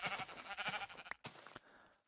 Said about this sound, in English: Sheep are driving me crazy.